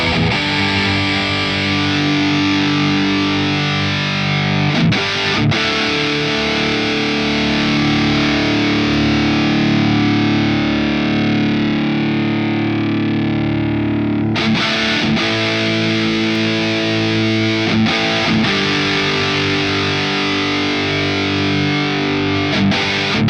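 Distorted guitar through the ML Sound Lab Roots V2 plugin on its 121 setting, a full, fuzzy sustained chord ringing for several seconds before fresh strums cut in, played alone.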